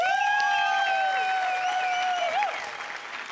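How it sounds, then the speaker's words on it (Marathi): A studio audience at the Marathi comedy show Maharashtrachi HasyaJatra applauds loudly and steadily, with a sustained whistling musical tone riding over the clapping before it eases off near the end. "सगळ्यात आधी जोरदार टाळ्या विनायक पुरुषोत्तमसाठी"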